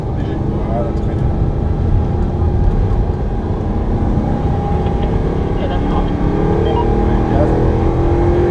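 An Audi R8 engine drones steadily and loudly from inside the car while accelerating on a circuit, with a person talking over the continuous rumble.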